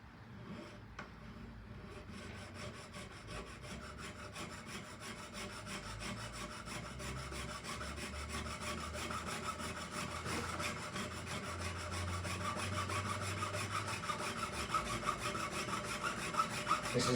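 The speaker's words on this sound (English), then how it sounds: "This is an 8/0 saw blade in this saw frame at the moment, so a very thin cut." A jeweller's saw fitted with a very fine 8/0 blade cuts through metal with quick, even rasping strokes. The close, continuous scratchy sawing grows steadily louder over about 17 seconds.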